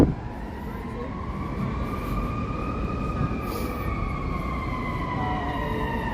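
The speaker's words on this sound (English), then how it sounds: "Hear the sirens." Emergency sirens wail in long rising and falling tones at a distance in downtown Chicago, layered over steady traffic rumble.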